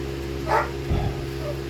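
Dogs at an animal shelter bark in a few short, separate bursts over a steady mechanical hum, moderately close and with no talking.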